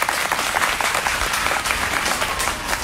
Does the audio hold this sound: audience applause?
yes